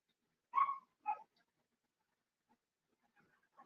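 Dogs barking inside a house with several dogs, two sharp barks at a distance followed by fainter scattered yips and whimpers, no speech.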